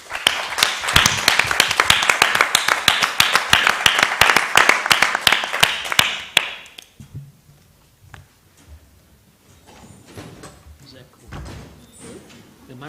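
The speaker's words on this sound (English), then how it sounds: "The applause. Bravo, guys." Dense clapping from a conference audience at a medical students' meeting in Cyprus after closing remarks, loud and sustained for about six seconds, then fading into quiet room noise with faint talk.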